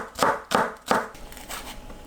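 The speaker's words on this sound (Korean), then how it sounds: "파를 얇게 썰어주세요." Green onions being thinly sliced with a knife on a cutting board, three crisp chopping strokes followed by softer, quieter cuts, close and alone without talk.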